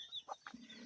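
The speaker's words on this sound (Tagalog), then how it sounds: "Nag-i-enjoy yung mga manok dito eh." Chickens on a small backyard farm roost in bamboo, giving a few short, soft clucks and one low call within a second, fairly close and alone without talk.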